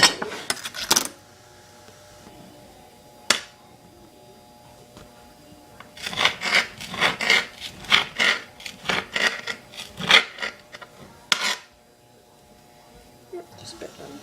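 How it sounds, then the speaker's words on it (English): A knife chops shallots on a cutting board in a kitchen, a run of quick, close, crisp taps after a few isolated knocks, with a person speaking nearby. "And now we chop the shallots."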